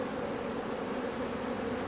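Honey bees buzzing at an open hive during a brood inspection, a dense, steady low drone of many insects, close and continuous with no talk.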